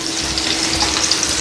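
Floured meatballs sizzle as they pan-fry in a little olive oil, a loud, close, steady crackling hiss with no talking.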